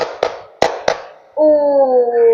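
Three sharp hand claps ring out close by, the second and third quicker together, as part of a classroom clapping drill; sustained group voices follow right after.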